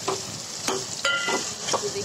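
Chicken keema fries in a pan as a spoon stirs it, a steady sizzle broken by several scraping stirs, close and fairly soft.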